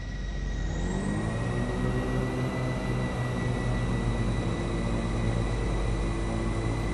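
Jet aircraft engine throttling up in the combat flight game Nuclear Option: a loud, steady roar with a high whine that climbs in pitch during the first two seconds, then holds at full power with no talking.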